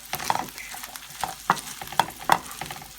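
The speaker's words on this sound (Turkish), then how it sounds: "Ve tereyağda biraz kavuruyorum." Thin pieces of homemade bread sizzle and crackle softly in a pan of butter, with a spatula scraping and stirring in quick, irregular strokes close by.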